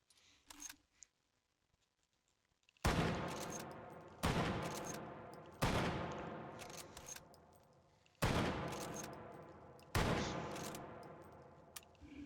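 Shots from a Mosin Nagant bolt-action rifle in the VR shooting game H3VR ring out one at a time, five loud reports spaced a second or two apart, each decaying quickly, after a few faint clicks of handling.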